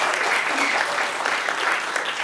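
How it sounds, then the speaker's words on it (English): Audience applause for two selected writers at a live script reading in Los Angeles, steady broadband clapping from a crowd filling the whole moment at moderate level. "A round of applause for Holiday and Josh."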